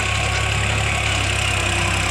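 A New Holland 3630 tractor engine running steadily in a farm field, loud and close with a constant low throbbing idle-like drone and no talk.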